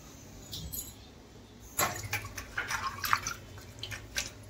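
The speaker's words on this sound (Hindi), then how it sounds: "ये धो रही हूँ दाल चावल धो रही हूँ" Lentils and rice being washed in water in a kitchen, giving faint close splashes, drips and sloshing that start after a quiet opening and continue in short bursts, with no speech.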